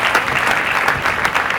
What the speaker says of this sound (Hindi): मैं आदित्य को भी आप लोगों से दरखास्त करता हूं कि जोरदार तालियों से आदित्य का भी